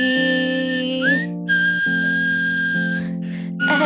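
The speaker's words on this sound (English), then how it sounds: "when you whistle while I'm trying to sing" A person whistles a steady, near melody of long held tones with a couple of upward slides between notes, clear and alone with no talking.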